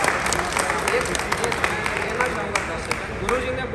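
An audience at a stage event claps continuously, a dense, steady patter of many hands with sharper individual claps poking through, and a voice speaking over it.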